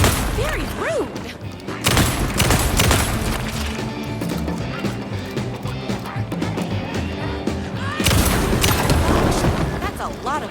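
Gunfire and explosions in Alan Wake 2's Night Springs DLC, repeated loud shots and booming blasts over a rumbling game soundscape, with a player talking throughout.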